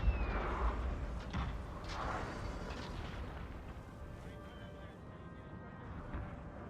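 Artillery cannons firing in a Napoleonic battle in Napoleon Total War, a few heavy booms early on that fade into a continuous low battlefield rumble and din.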